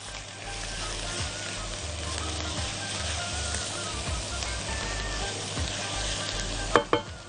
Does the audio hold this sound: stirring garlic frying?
yes